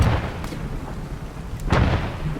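Mortar fire in a video game sounds as a few muffled, booming thuds over a low rumbling background, one sharper blast near the end.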